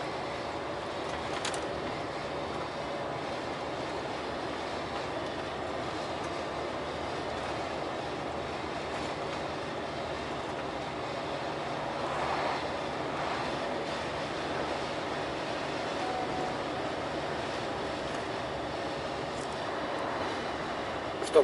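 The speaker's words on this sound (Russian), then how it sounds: "Впереди поезда, железнодорожный мост." A passenger train rolls toward a railway bridge near Kultuk by Lake Baikal, a steady low rumble and rattle of wheels heard from inside, with faint swells midway.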